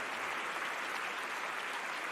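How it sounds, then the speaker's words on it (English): A stadium crowd at weightlifting in the London 2012 video game keeps up a dense, unbroken wall of applause and cheering, loud and even throughout. "this crowd is at fever pitch"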